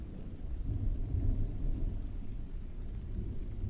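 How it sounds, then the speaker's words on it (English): A steady rain soundtrack plays with low rolling thunder rumbling beneath it, moderately quiet and continuous, with no voices. "It's a rain track that I always put up."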